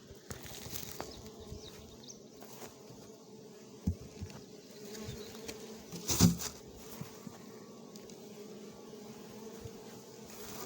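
Honeybees drone steadily around an opened hive as the boxes are lifted off, a continuous close buzz with a few louder thumps and brief swells.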